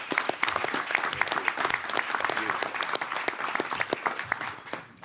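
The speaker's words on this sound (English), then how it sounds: "Give her another round of applause." Dense, steady audience applause fills a hall at a mayoral announcement on the opioid epidemic, many hands clapping continuously before tapering off at the end.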